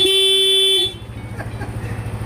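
Loud upgraded car horn blaring in one strong sustained blast, close, then cutting off into low idling engine rumble.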